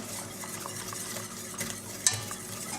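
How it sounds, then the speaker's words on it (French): Thickening cream mixture in a pan for a classic Bienenstich, stirred continuously with soft, steady scraping and a faint simmer, fairly quiet with one brief utensil clink; no voices. "il ne faut plus arrêter de tourner parce que si on arrête de tourner, ça va former énormément de grumeaux"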